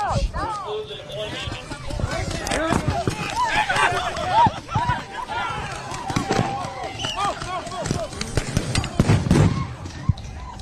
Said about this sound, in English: We're hearing flashbangs go off.